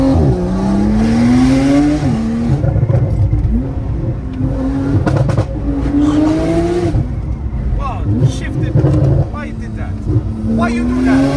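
Porsche 911 Turbo S tuned to about 750 hp roars loud and close, revving through gears with sharp exhaust pops and bangs between pulls, as voices talk over the engine.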